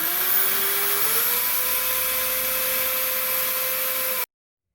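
A power drill boring holes into the bottom of a metal container for making biochar, a steady loud whine with rising pitch as the motor spins up, then holding a constant tone until it stops abruptly.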